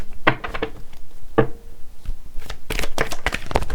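Cards shuffled for a tarot-style reading, with several quick riffling bursts of paper flutter and soft taps, close and fairly loud, separated by short pauses.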